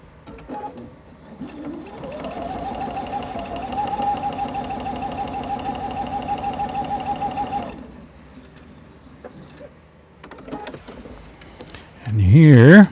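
A sewing machine stitches a seam through fabric with yellow thread, a steady whirring mechanical hum that runs evenly for several seconds and then stops, with a brief burst of speech at the end.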